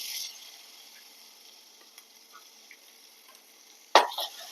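Garlic and chili paste fry in hot oil with a soft, steady sizzle and occasional faint stirring clicks. Near the end a sudden, louder sizzling burst flares up, then fades.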